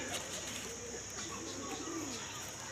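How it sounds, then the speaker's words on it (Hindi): Pigeon cooing on a rooftop, soft low warbling coos that sit under steady ambient noise and a constant high hiss. "बाकी ये ही कबूतर बैठा हुआ है"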